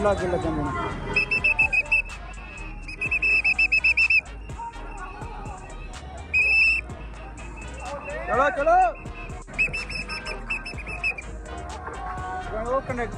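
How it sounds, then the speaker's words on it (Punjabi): Whistles are blown in a series of shrill, sustained bursts, some repeated in quick succession, alongside people talking and a busy background. "ਲੈ ਵੀ ਬਾਈ ਸੀਟੀਆਂ ਵੀ ਮਿਲ ਚੁੱਕੀਆਂ ਹੁਣ"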